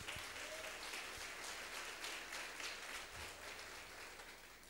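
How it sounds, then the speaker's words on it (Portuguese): A church congregation breaks into dense, sustained applause in a large hall, a steady wash of clapping that slowly fades toward the end. "Aplauda Jesus."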